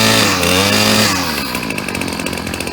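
A Ryobi 790r two-stroke string trimmer idles loud and close as it warms up with the choke coming off, its buzzing engine note shifting pitch early, then settling into a steady rasp.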